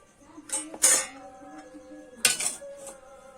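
A large metal bowl is set down in a Bengali kitchen while preparing rice-flour pitha, giving a few close clinks and clanks in two bursts with faint ringing in between, no voices.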